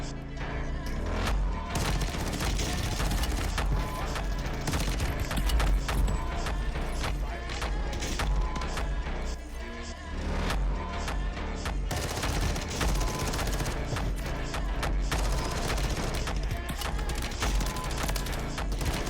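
Rapid automatic fire from a switch-modified Glock pistol in Call of Duty: Warzone, dense continuous bursts and booms over music-like game audio throughout, loud and close.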